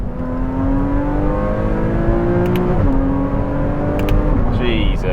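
Porsche Cayman S engine pulling hard from inside the cabin, a steady rising drone with a brief dip at a gear change, loud and continuous with faint chatter.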